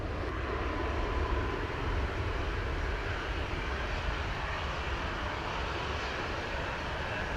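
A Sunwing airliner's engines drone steadily as it back-taxis on runway 25 at Montego Bay, Jamaica, a continuous broad roar at fairly close range with no talk.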